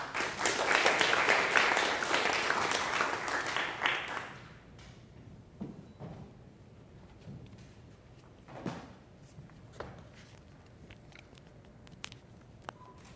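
A church congregation gives a dense burst of applause to welcome a pastor to the pulpit, loud for about four seconds, then quickly dies away into quiet room noise with a few scattered taps and shuffles.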